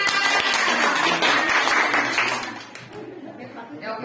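Group clapping close by, sharp rapid hand claps over the first two and a half seconds, then fading out while someone talks.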